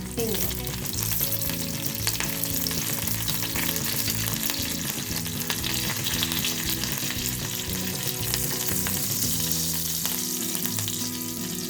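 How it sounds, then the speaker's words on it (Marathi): Curry leaves added to a garlic tempering sizzle loudly and steadily in hot oil for a sprouted green gram usal, a close, dense frying hiss that stays even throughout with no speech. "आणि कढीपत्त्याच्या पानासोबत घालायचं आपल्याला"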